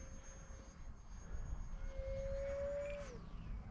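A faint, thin motor whine from a small model plane in the distance, holding steady then rising in pitch, over low wind rumble.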